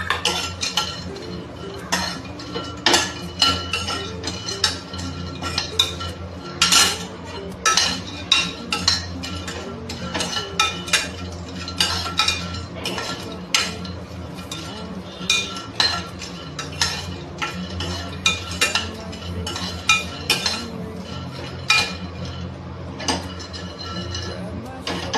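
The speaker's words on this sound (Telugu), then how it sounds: "ఈ విధంగా ఫ్రై అయిన తర్వాత కొన్ని కొబ్బరి ముక్కలు కూడా వేసుకొని ఫ్రై చేసుకుందాం." Coconut pieces fried with peanuts in a pan for a Telugu bottle gourd curry, a metal spoon scraping and clinking steadily against the pan close by, with a faint sizzle underneath.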